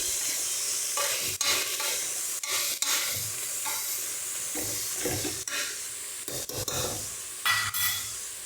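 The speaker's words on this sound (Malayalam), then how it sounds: "നമുക്കൊന്ന് ഇളക്കി യോജിപ്പിക്കാം." A spoon scrapes and stirs a vegetable oats soup mix with turmeric and chicken masala in a pan, giving repeated close rasping strokes over a soft sizzle, with no talking.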